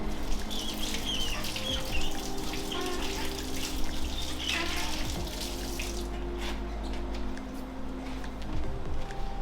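A car being rinsed with running water in a steady, continuous hiss and splatter for a full wash step before drying, with no talking.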